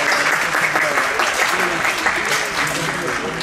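Audience applause greets the arrival of a CONCYTEC representative at a university faculty event, a dense, steady wash of clapping with voices mixed in throughout.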